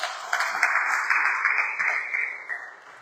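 A church congregation applauding during a Sunday service, dense steady clapping that fills the space, loud and continuous for a few seconds before easing off slightly, no talk over it.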